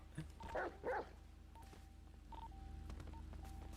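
A dog in a video game barks twice in quick sharp bursts near the start, followed by quieter electronic beeps over a low hum.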